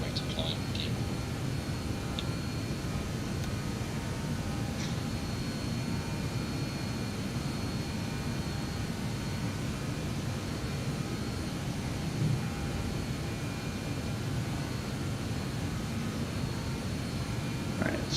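A BAe 146 jet airliner takes off in the flight simulator MSFS 2020: a steady, loud engine roar with heavy low rumble holds unbroken from start to finish.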